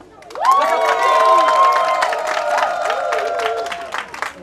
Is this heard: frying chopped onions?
no